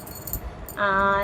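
Bright metallic-sounding clinks ring out near the end after a stretch of soft rustling, a cluster of clay bangles knocking together close by.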